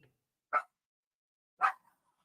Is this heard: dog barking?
yes